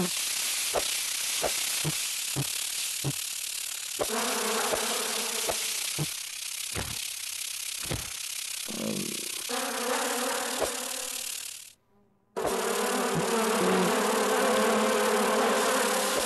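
Bees buzz loudly in a video game, a dense continuous drone cut by rhythmic tapping clicks, dropping out briefly near the end before the buzzing returns at full strength.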